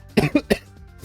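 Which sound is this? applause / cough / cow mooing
cough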